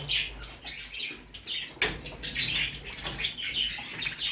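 Jumbo budgerigars in a pet shop, a lively mix of close and scattered chirps and squawks with occasional wing flutters in a busy, echoing room.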